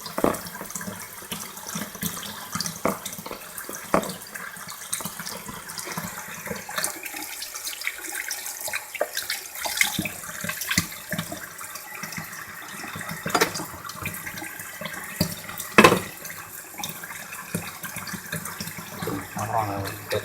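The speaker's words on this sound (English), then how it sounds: "my hands are soapy. I'm cleaning my hands." Tap water runs into a kitchen sink while soapy hands are washed during home cooking, a continuous splashing stream with bursts and drips and a voice talking at times over it.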